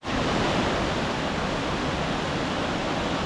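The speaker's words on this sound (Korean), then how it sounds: "내려가는 길에 있는 폭포입니다." A steady, full rush of a small waterfall in Hallstatt, Austria, pours without pause, loud and close, with no voices over it.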